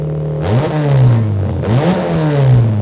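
A Honda Civic Type R FL5 engine revs hard twice in quick succession, each blip climbing sharply in pitch and then falling back, loud and close.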